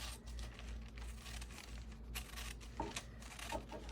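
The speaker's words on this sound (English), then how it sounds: "I'm just going to cut relatively straight" Scissors snipping through thin deli paper, a soft steady papery crinkle and rustle with a few sharper cuts near the end, close and quiet.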